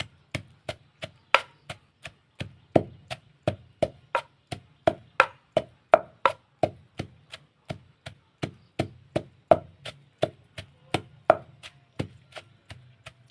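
Dried fish chili dip is pounded in a mortar: a long run of sharp, evenly spaced pestle thuds, about three per second, close and loud, with no voices.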